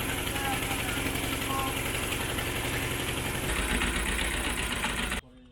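A boat engine drones and rumbles continuously, loud and close, with a low throbbing vibration throughout before cutting off abruptly near the end, in Bangladesh.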